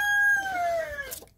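A young silver birchen rooster crows once, clear and close, with a long drawn-out call that slides downward before trailing off. A small rustle follows at the end.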